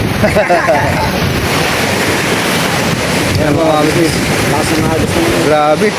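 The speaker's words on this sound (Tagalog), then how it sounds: "Grabe yung agos ng dagat." Rushing sea water and waves from a strong sea current churn under strong wind buffeting the microphone, while a person talks over the steady roar.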